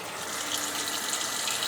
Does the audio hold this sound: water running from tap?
yes